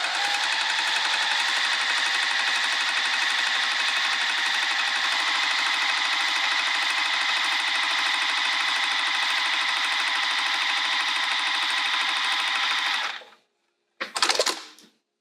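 A sewing machine stitches fabric for a bag in one steady, continuous whir for about thirteen seconds, then stops, followed by a brief mechanical burst; no voices.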